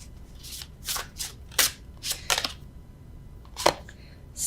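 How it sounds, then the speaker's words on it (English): Tarot cards shuffled by hand rather than riffled, giving a series of soft papery swishes and flicks in uneven bursts, fairly close and quiet with no talking. "Normally I riffle shuffle, but I don't feel like it."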